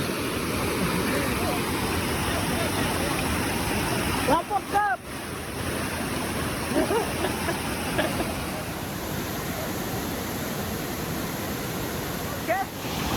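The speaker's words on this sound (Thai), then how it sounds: "อันนี้จะเป็นน้ำตก" A village stream pours over a waterfall in a forested area, giving a steady broadband rush of falling water that continues throughout, with a few brief voice sounds and wind buffeting the microphone.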